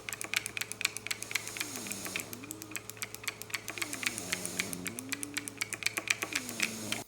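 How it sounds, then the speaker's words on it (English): Switches of a Logitech Xbox Adaptive Gaming Kit being pressed, giving a steady run of crisp, close clicks at an irregular typing-like pace, with no talking. "the actual clear sound when you click all of the switches"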